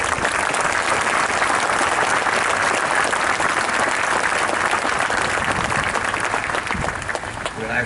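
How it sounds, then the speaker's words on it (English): Sustained, dense applause from a large audience at a Battle of Ia Drang 50th anniversary commemoration at the Vietnam Veterans Memorial, loud and even throughout with no pauses. "So please give a round of applause."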